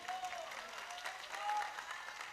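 Audience applause after a speaker's joke at an Ansor event in Kedungdung, a quiet, steady patter of clapping held at a distance with some faint voices mixed in.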